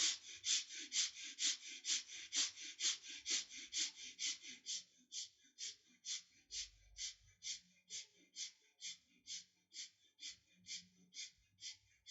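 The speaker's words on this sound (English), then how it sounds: "No movement in the body except the rib cage, and you continue breathing." Slow, rhythmic breathing during a guided deep breathing exercise, with steady evenly spaced breaths, close and clear, continuing alone for the whole stretch with no talk.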